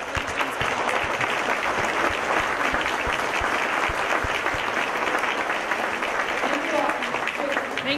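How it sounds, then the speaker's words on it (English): An audience at a Christmas band concert gives a sustained round of applause, dense even clapping that holds steady for several seconds, with faint voices mixed in toward the end. "So one more round of applause."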